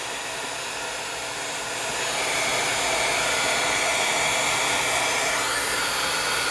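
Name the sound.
heat tool drying paint on paper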